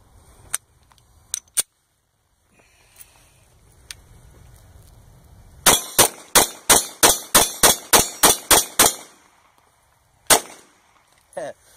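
An FNX-45 pistol fires a rapid string of about ten sharp shots in steady succession, preceded by a few scattered isolated shots and followed by one more, loud and close.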